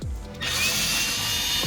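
A power tool whirs briefly while backing 7mm bolts out of a rear speaker in a Chevy Corvette C6, a short close burst of drill noise that ends in a spin-down.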